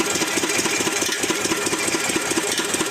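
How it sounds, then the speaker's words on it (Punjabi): A farm water-pump engine idles close by with a rapid, regular knocking pulse, running continuously without pause. "ਇੰਜਨ ਵੀ ਕੀਤਾ ਚਾਲੂ ਹੋ ਗਿਆ"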